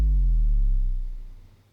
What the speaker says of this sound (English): really basic sub drop that just sounds like this.